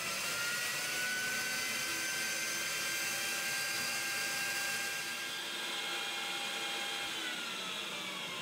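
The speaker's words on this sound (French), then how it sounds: "le moteur qui se trouve en dessous va permettre d'aspirer l'air" Motor of an atmospheric air sampler drawing air through a quartz filter, a loud, steady whirring hiss with a constant high whine, running unbroken and close throughout.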